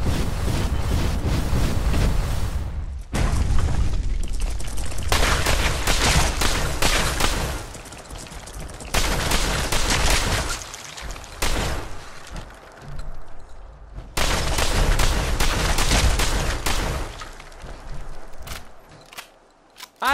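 Fallout 4 defensive turrets at a lighthouse vault build firing in long, dense, loud bursts, broken by short gaps and a sparse tail of shots near the end.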